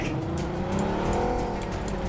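A car driven in the video game PUBG Mobile gives off a loud, continuous engine drone with faint tire noise, steady throughout without talk.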